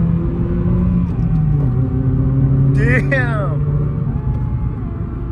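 A Honda Fit GD3 with fresh detent springs, shifter cable bushings and a flushed transmission cruises along with a steady low engine and road rumble from inside the cabin, while someone speaks briefly over it.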